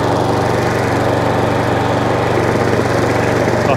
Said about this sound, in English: I think the chain's slipping slightly.